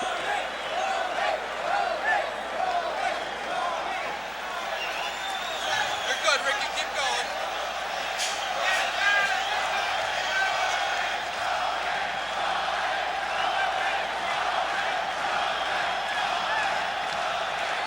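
Boxing arena crowd jeering as Wilfredo Gomez stands in the ring before facing Rocky Lockridge, a steady loud roar of many voices with scattered shouts, continuous throughout under a commentator's talk.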